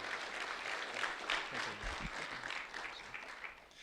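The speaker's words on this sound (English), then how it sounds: "A round of applause for Mr. Kellum, please" Audience applause at a public event welcoming a senator's regional director, steady clapping from a crowd held at a moderate level for several seconds, fairly distant and without speech.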